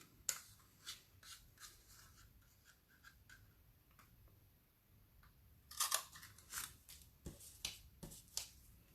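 Scissors cutting a paper card diagonally, a series of faint, close snips and crisp paper rustles spread irregularly over several seconds.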